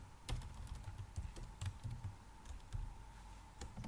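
Code is typed on a computer keyboard, a quiet run of quick key clicks at an uneven rhythm with a few heavier taps, close and on their own.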